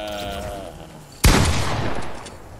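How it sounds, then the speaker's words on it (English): A single loud gunshot blast in a video game cuts in sharply after quieter game ambience, its noisy burst then settling into a sustained rumbling tail. "Just shooting the air"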